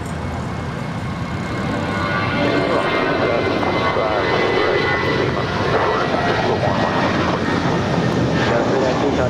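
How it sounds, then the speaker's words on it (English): An Airbus A320 jet departs LAX with a loud, broad engine roar that builds and holds steady, mixed with outdoor rumble. "this departure is United Airlines 319 departing to Puerto Vallarta. That's an A320."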